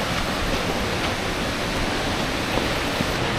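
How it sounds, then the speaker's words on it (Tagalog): Awasen Falls pours in a steady, dense roar of rushing water, close and even throughout with no pauses. "Naririnig na namin. Ang ganda ng falls."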